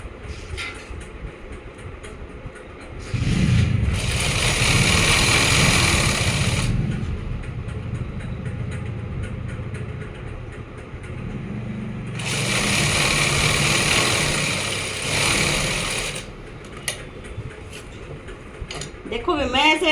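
A domestic sewing machine stitches a seam on a simple kameez, with two loud sustained whirring bursts of running motor separated by quieter stretches where someone talks.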